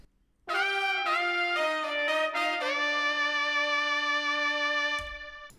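Saxophone melody backed by a horn section plays the closing phrase of a pop intro, sustained bright harmonic notes changing pitch several times before cutting off near the end, loud and alone with no voices.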